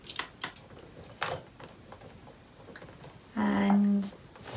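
Keys jangle as they drop into a Prada Cleo handbag: a few quick, close metallic clinks and rattles early on, followed by a louder sustained sound that may be a voice.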